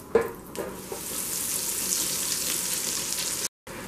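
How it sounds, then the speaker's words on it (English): Battered cauliflower drops into a deep fryer and hot oil sizzles steadily and loudly, a bright continuous crackle that holds for several seconds after an initial splashy burst. "they'll be ready to go into the deep fryer"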